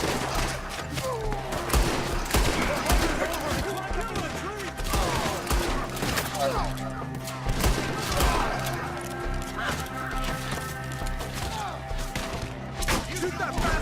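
Rapid bursts of gunfire in a Western shootout in Red Dead Redemption 2, loud and close, with sharp cracks packed tightly together and continuous rumbling action underneath.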